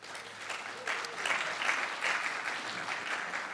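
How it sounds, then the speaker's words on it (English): Applause from an audience gathered for an evening community parks talk on wildfire preparedness, steady dense clapping across the whole stretch, moderately loud in a room, swelling slightly after the first second. "round of applause to you guys who are here tonight"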